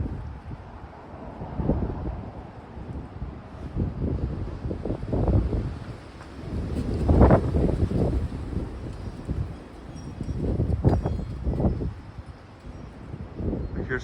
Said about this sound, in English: The rain's gone, but the wind is not.